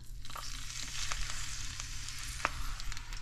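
Pieces of wahoo fish sear in hot oil, a steady close crackling sizzle with a faint low hum underneath and a single sharp pop partway through.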